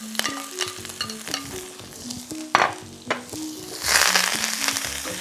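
Onions frying in oil for a Sri Lankan beans curry, a steady sizzle broken by repeated knocks of a spoon stirring the pan, louder hissing flaring near the end.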